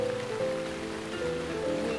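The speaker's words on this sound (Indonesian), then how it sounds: "I love it when it rains." Rain falls in a steady, soft wash, a continuous patter with a faint tonal hum beneath it and no voices.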